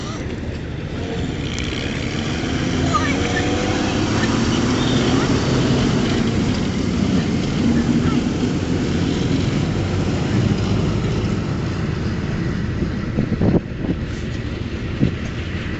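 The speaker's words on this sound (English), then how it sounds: "This strange looking vehicle is called the BV-202. It is also an all-terrain vehicle." Old Saab-developed BV-202 tracked all-terrain vehicle driving over winter ground, a steady, low droning engine rumble that rises in level and holds, with someone talking over it.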